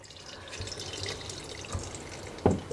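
Saved cabbage water drained from homemade sauerkraut pours softly into a container, a faint continuous trickle with a small splash near the end.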